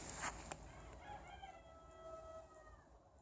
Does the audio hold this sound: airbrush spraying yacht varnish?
no